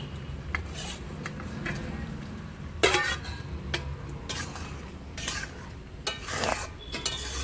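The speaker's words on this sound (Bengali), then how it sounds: "ঝোলটা আমার ফুটে গেছে এখন চিংড়ি মাছগুলো দিয়ে দিচ্ছি" Shrimp going into a boiling curry broth in a pot, with bubbling and sizzle under repeated clinks and scrapes of a metal spoon against the pan, close by and without speech.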